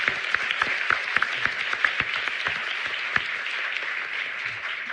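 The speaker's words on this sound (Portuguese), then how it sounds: "Salva de palmas." Audience applause for guests at a live podcast marathon event, a moderately loud burst of clapping with a few sharper individual claps standing out, sustained and slowly easing.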